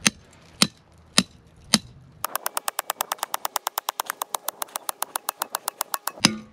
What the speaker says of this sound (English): And remember my hammer this time.